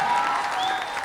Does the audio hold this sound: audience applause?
yes